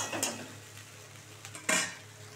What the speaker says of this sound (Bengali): একটু কষিয়ে নেবো বন্ধুরা